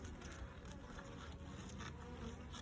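A steady, low buzzing of many honey bees droning together at a hive, continuous and close, with no voices.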